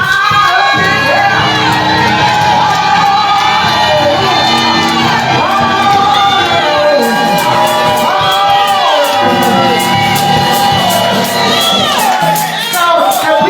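Church congregation shouting together at a worship service, a loud sustained crowd roar with whoops and cheering voices rising and falling throughout, dense and near with no pauses.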